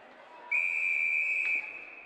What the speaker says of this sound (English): play will be whistled dead as the puck was not moved